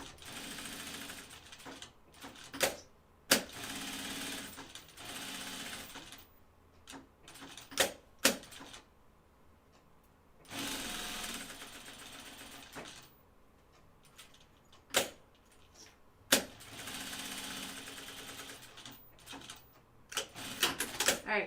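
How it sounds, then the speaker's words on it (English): A sewing machine top-stitches a Kelly Anorak in several separate bursts of close mechanical whirring, with quiet gaps and occasional sharp clicks and knocks between runs. "So I'm just going to top stitch these 3 sides here first."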